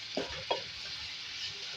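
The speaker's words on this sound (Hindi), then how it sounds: "इसको फ्राई करेंगे 2 से 3 मिनट" A pan sizzles steadily before keema goes in, with a couple of brief stirring scrapes near the start over the constant frying hiss.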